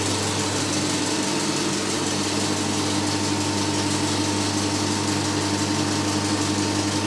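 An electric motor driving cinema equipment gives a steady, loud hum with a strong low drone and a mechanical whir that stays constant throughout.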